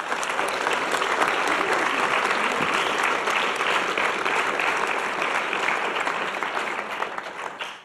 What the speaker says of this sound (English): he definitely deserves a round of applause for all that's been done here this evening